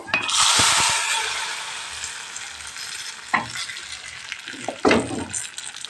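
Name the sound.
spice tempering sizzling in hot oil over jute leaves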